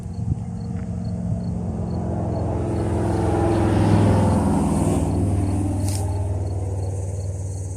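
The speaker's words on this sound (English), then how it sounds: "Dude riding in the back of a pickup truck." A pickup truck drives along steadily, heard from its open back bed: a continuous low engine and road rumble with rushing wind, swelling slightly midway, with high insect-like chirps above and no talking.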